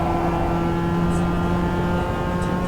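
A Mazda MX-5 engine drones steadily in the iRacing sim on the Nürburgring during a VLN race, a constant tonal hum with little change in pitch, played from a laptop in a living room.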